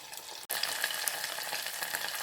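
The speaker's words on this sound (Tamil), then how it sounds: "கருவாடு பொறிஞ்சிருச்சு இப்போ அதை எடுத்துடலாம்" Dried fish sizzles steadily in hot oil in a pan for a village-style fish curry, with a brief dropout near the start followed by a constant crackling hiss and occasional sharp pops.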